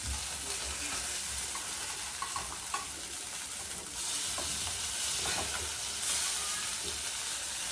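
Drumstick flowers frying in a pan over a medium flame, a steady close sizzle and crackle running throughout with occasional stirring and clinks, no voices.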